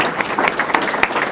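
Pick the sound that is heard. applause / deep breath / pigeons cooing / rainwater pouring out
applause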